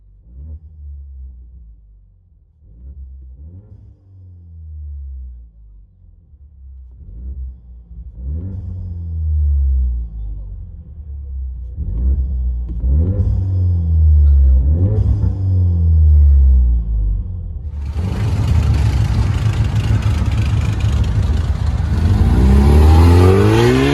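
A Ford Mustang V6 engine revs repeatedly in short bursts, heard from inside the car, then builds into a loud, sustained roar near the end.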